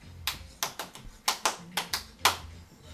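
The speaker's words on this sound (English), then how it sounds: "Come on, everybody give your hands a clap." A few people clap hands during a family sing-along at a grandmother's house, about eight sharp separate claps in an uneven rhythm, close by and fairly soft, with no voices over them.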